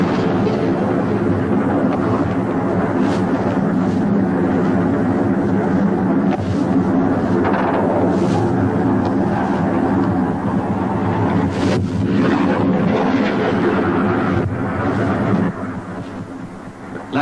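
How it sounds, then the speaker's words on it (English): An Argentine Air Force plane sweeps low over the landing ships Sir Tristram and Sir Galahad in the 1982 Falklands conflict, a loud, sustained roaring rumble that holds steady before dropping away near the end. "the first warning came as the plane swept low over the ships, Sir Tristram and Sir Galahad."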